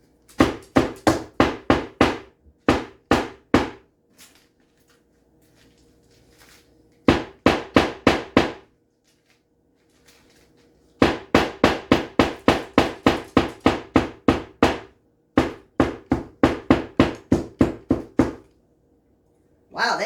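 A hammer strikes a bag of peppermint candies laid under a cloth on a kitchen surface. Quick bursts of sharp, dull knocks come in rapid runs of eight to twelve blows, separated by short pauses, with faint talk in the gaps.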